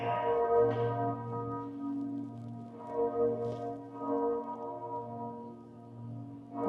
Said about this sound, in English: bell ringing was really,